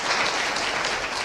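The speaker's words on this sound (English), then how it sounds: "Please thank him with another round of big applause." An audience at the opening ceremony of the 2023 International Patent Court Conference gives a big round of applause, a dense, even clapping that stays loud throughout.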